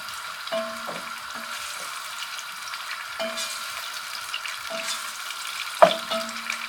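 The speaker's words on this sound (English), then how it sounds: "Our onion is heating, so that's good." Onions frying in a pan on a home stove, heard as a steady close sizzle with a few louder clatters and stirring scrapes across it, no voices.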